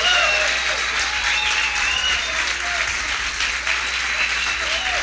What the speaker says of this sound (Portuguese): Então vamos aplaudir o Senhor?